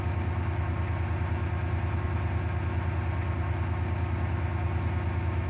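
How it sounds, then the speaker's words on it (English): A train engine idles in the Roblox SCR railway game, a steady low mechanical hum with a faint regular pulse, constant and close, with no talking. "This train has three coaches."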